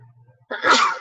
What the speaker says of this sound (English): I sneeze every class, don't I?